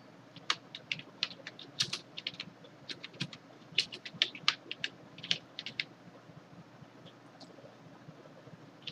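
Keystrokes on a computer keyboard while filling in an online scholarship application form, in quick irregular bursts of clicks with short pauses, close and moderately loud with no speech.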